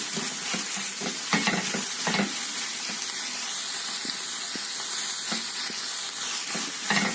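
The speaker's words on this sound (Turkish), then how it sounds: "Güzelce karıştırıyorum." Sliced green chili peppers sizzle steadily in a hot pan for a meat sauté while a utensil scrapes and stirs in irregular strokes, close and continuous.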